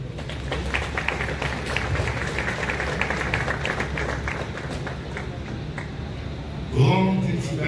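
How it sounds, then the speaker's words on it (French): Audience applause at the inauguration of a government administrative building, a steady wash of clapping from a large crowd filling the space before a louder burst near the end. "Sous vos applaudissements."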